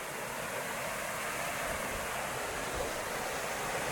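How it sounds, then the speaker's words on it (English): A waterfall in the El Yunque rainforest in Puerto Rico pours with a constant broadband rush, steady and moderately loud, with no voices over it. "It's called all kinds of waterfall action, guys."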